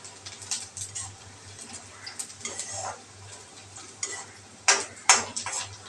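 Onion stirred in a pan while cooking for stuffed capsicum, with a spoon scraping and clinking against the metal in irregular bursts under a faint steady sizzle and low hum, close and quiet.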